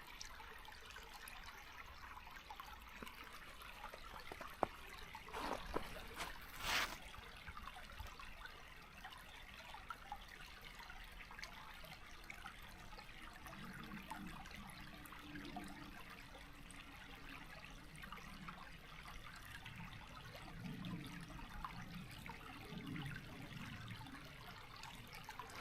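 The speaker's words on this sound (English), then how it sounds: "This is a pretty good flow of water right here." A creek fed by runoff from a stockyard pasture, faint water trickling and flowing steadily at a distance, very quiet, with a brief sharper splash or knock early on.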